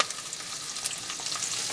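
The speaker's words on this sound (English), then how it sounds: "Got sausage, bacon, eggs, pancakes, and potatoes all cooking at the same time" Sausage, bacon, eggs, pancakes and potatoes frying together on a stove inside a van, a steady close crackling sizzle with faint stirring and no voices.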